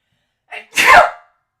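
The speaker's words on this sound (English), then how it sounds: "Yes, I'm going to sneeze. Watch out." A single close, loud human sneeze with a short intake before the explosive burst, heard alone against silence.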